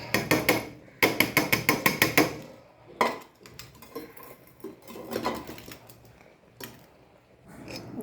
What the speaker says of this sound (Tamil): சவரிசியை போட்டு கிண்டு கொண்டே இருக்கணும்